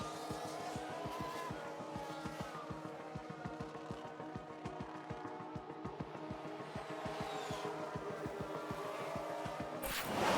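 Race cars in the F1 Manager 2022 video game, an Alfa Romeo among them, with a steady rapid pulsing engine drone and a skidding spin-out, and a sharper burst near the end.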